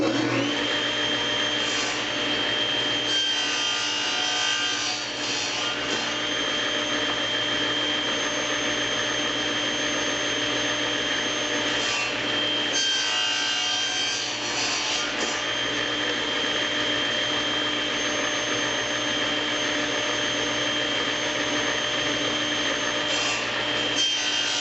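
A power saw cuts wood pieces for a zig-zag bowl in a workshop, a steady loud whine with dense broadband noise that runs the whole time, dipping slightly during a few brief pauses between cuts.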